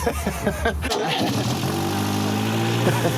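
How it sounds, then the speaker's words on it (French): A Renault 5 Alpine car engine rumbles steadily up close, with a low continuous drone and a brief shift in tone early on, no one speaking. "On doit bien l'entendre, le moteur, non ?"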